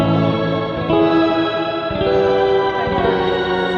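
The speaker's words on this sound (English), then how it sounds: "It's just like also a reverb pedal." Guitar notes through a shimmer reverb pedal, drenched in lush, shimmering reverb with chorus-like wash and sustained high overtones, played alone without voices.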